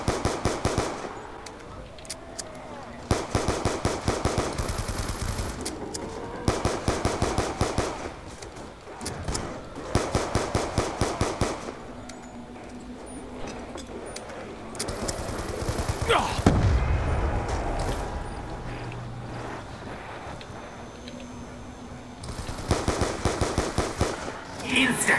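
An RPD machine gun fires in Black Ops II Zombies, loud rapid bursts repeating again and again, with players talking over the gunfire.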